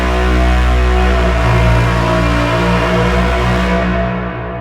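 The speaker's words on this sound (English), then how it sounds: "This is the sound of a Titan, or a god engine from a Titan Legio." A Warhammer 40,000 Titan war machine, a god engine of a Titan Legio, rendered as a loud, sustained, dense mechanical drone with deep layered hum and harsh upper grind that holds for several seconds before tapering.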